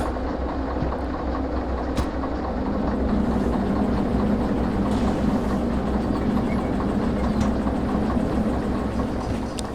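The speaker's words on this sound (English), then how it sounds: "all I've got to do is back this train up" A simulated freight train in Derail Valley backs up at low speed, a steady engine drone with faint rhythmic clacks and occasional clanks, continuous and fairly loud with no talk.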